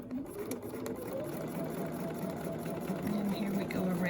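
A sewing machine runs steadily with its needle set to stop down, a close mechanical whir with a rapid stitching rhythm as ruler quilting goes on.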